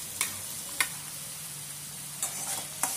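Masala spice paste frying in a pan for a Katla fish curry, a low steady sizzle broken by a few sharp spoon taps on the pan edge, quiet and without voices.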